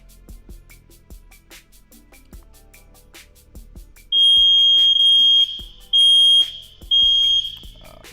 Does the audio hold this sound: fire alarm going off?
yes